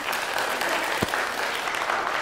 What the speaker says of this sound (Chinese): 你们鼓掌也没有用。